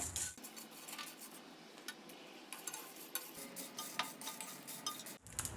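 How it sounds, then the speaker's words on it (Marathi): Whole spices are dry-roasted in a pan over medium heat, with light rattling and scraping as a spoon stirs them in quick irregular taps. The sound is fairly quiet and close, and no one speaks. "मध्यम आचेवर हे व्यवस्थित छान असे एकसारखे भाजून घ्यायचं आहे"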